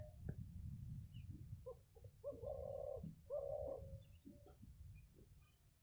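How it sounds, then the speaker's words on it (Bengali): A dove coos softly nearby, two or three drawn-out hollow coos in a short phrase over a low background rumble. "আর একটা ঘুঘু দেখো আমাকে দেখে দৌড়াচ্ছে"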